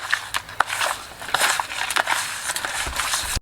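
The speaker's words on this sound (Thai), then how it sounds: "ปลาดุกนี่เราจะขยำเกลือนะครับ เพื่อเป็นการล้างคาวล้างเมือกออก" Raw catfish being kneaded by hand with salt in a kitchen gives gritty, squelching crunches and wet rubbing, close and fairly loud in uneven bursts, with no talking.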